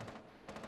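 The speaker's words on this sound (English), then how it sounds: "Alright, somebody shooting through here." Video game gunfire, a faint quick burst of shots followed by another short rattling burst in under a second.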